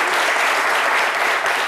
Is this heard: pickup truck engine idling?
no